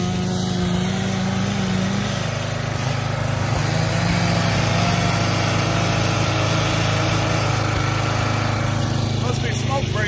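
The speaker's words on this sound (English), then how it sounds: "Tony's sitting there, he's running the splitter, and while the King cut using his 460," A Husqvarna log splitter and a Husqvarna 460 chainsaw process firewood outdoors, blending into one loud, steady small-engine drone that holds evenly throughout.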